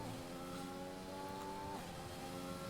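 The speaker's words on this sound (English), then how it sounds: "I'm just finding it so much better to drive in this racing point" A Racing Point Formula 1 car in the F1 2021 video game holds a steady, high-pitched engine whine at speed, loud and continuous throughout with no speech.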